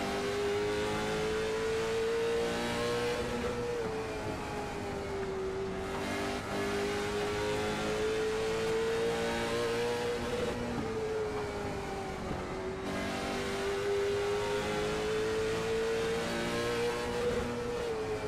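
Race cars of the SARA Impel National Tour roaring around the track at the PVTR Thanksgiving Classic, a loud continuous engine drone rising and falling as the pack laps, with no commentary heard.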